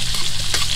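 Yellowfin tuna steak fries in butter and oil, a steady, close, dense sizzle that runs the whole moment with no talk over it.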